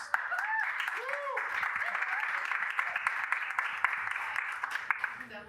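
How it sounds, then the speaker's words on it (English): A comedy show audience breaks into sustained applause, dense clapping filling the room, with a few brief vocal sounds at the start. "Would you please give yourselves a round of applause?"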